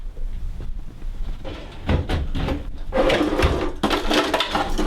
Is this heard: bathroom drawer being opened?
yes